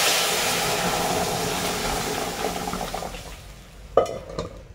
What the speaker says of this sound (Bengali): আমরা এবার ডালটা দিয়ে দিচ্ছি।